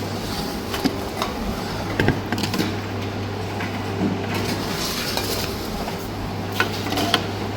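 Empty bottles are fed one after another into a bottle-return machine in Germany, giving intermittent clinks and rattles over a steady mechanical hum.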